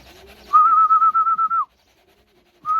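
A racing pigeon at the loft after a 700 km race from Christchurch, heard as a loud, sustained whistled call in two bursts, the second cut short, with no talk over it.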